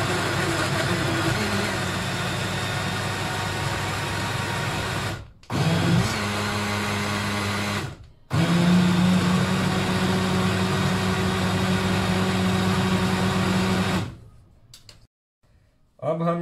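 Kitchen blender grinding bananas for a coconut milkshake runs in loud motor bursts, stopping briefly twice and rising in pitch as the mixture smooths, then cutting off near the end.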